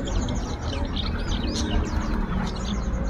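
Asian pied starlings sing at a busy bird market, with bright whistled chirps and warbling calls, some cooing from other birds, over a steady din of background noise.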